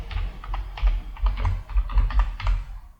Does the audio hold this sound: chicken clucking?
no